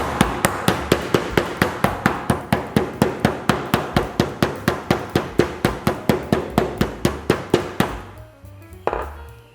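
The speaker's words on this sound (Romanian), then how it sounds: "Nu stropește, 2. Nu se lipește carnea de ciocan." A meat mallet pounds thin pork slices through foil in rapid, steady thuds, about thirty close, sharp hits in a row before stopping, followed by a single later knock.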